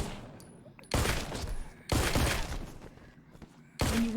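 Gunfire in the video game TWD: Onslaught: three loud, close shots spaced about a second apart, each a sharp blast with a ringing decay.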